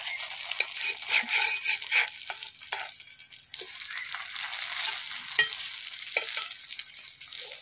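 Pori adde, a flat batter cake, frying on a tava pan, giving a steady near sizzle with occasional scraping and turning sounds, no talk.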